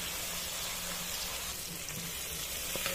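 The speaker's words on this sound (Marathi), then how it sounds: "टमाटरला याला टमाटरला छान 2-3 मिनिटं शिजू।" Tomatoes for a pasta sauce cook in a pan, giving a faint, steady sizzle and simmer that continues evenly throughout with no voices.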